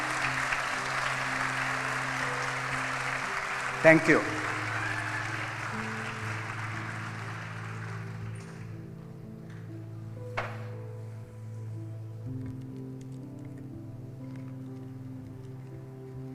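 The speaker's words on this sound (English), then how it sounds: "Let us give a round of applause to the graduating class." A graduation convocation audience applauds the graduating class with dense, fairly distant clapping that fades over several seconds into a quiet hall with a low hum. A brief voice thanks the crowd partway through.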